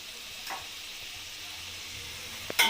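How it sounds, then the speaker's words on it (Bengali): Peas kachori frying in hot oil in a kadai, a steady soft sizzle holding throughout with a couple of faint clinks and a brighter burst of crackle near the end. "এইভাবেই আমি সমস্তগুলো ভেজে নেব"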